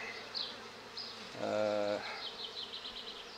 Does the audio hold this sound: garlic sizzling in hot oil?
no